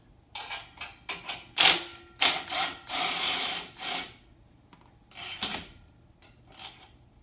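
Metal bolts being pulled and worked free to remove the pad from a Difference USA striking machine, heard as a series of short scraping, rubbing bursts with pauses, fairly close and without talk.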